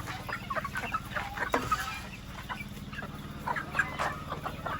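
Chickens on a farm clucking in short, repeated bursts, several birds close by, with a low steady hum underneath and scattered scratchy movement.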